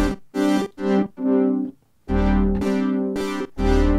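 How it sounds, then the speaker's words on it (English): A synthesizer plays a series of separate notes of varying length with short pauses between them, a smooth, somewhat mellow triangle-wave tone, loud and alone. "I'll show you a triangle wave before we go to saw and triangle."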